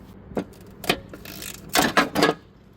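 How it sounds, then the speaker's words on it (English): Several sharp, separate cracks and clicks ring out close by as bolts snap while a Husqvarna mower's mandrel assembly on a 42- or 46-inch deck is removed, with quiet gaps between the bursts. "That one snapped as well."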